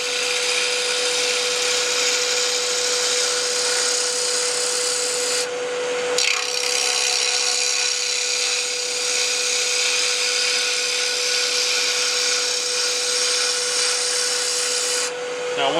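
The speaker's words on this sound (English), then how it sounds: "did you hear the speed go up? I just went to 2200 RPMs." A wood lathe spins a pen blank at 2200 RPM under a constant high whine while the tool scrapes and cuts the wood in a steady, close rasping, briefly easing off twice.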